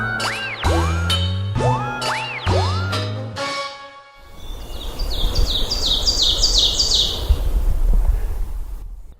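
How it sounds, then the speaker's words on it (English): Ovenbird singing in a Maine woodland: a series of loud, near, sharply repeated chirping phrases that build in a steady rhythm, preceded by a few bouncy springy boing-like sounds. "That's the oven bird."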